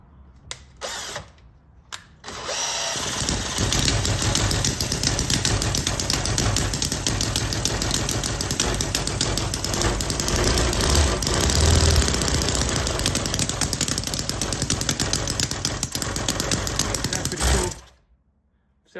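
A miniature Harley-Davidson V-twin shovelhead engine idling, a loud, close, continuous rapid buzzing chatter that starts after a brief pause and cuts off near the end, with faint voices beneath.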